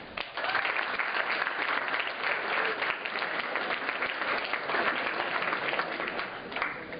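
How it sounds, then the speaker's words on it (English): An audience at a pre-med club's first fall general meeting bursts into sustained applause, a dense wash of clapping from a large room that holds steady for several seconds. "So another round of applause for you all."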